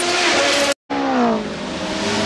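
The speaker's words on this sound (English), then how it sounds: "Formula One cars are racing cars that go very fast." A Formula One racing car screams past at high speed, its engine note sweeping downward as it passes close by, loud and continuous, broken by a brief cut before the roar resumes.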